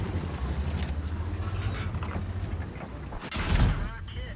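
Tank cannon fire from a T30 heavy tank in a tank battle video game, a single loud boom with a sharp crack ringing out over a steady low engine rumble.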